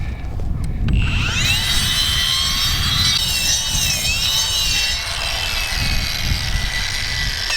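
A power tool grinds and cuts rock on a cliff edge, a loud, sustained high whine with shifting pitch and gritty rumble, close up and continuous, with no speech.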